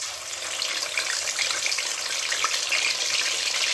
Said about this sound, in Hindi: ऑयल हमारा तकरीबन तैयार हो गया है और इसमें भी पहला ही पीस डालेंगे